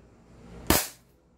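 A tuned airsoft Glock 18 pistol with trigger work fires a single sharp, loud crack close by. The shot decays quickly into quiet.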